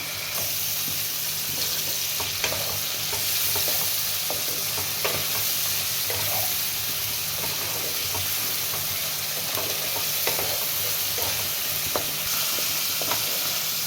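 Cumin, coriander and chilli spice paste sizzles steadily in a hot pan while a spoon scrapes and clicks through it at irregular intervals; no one speaks.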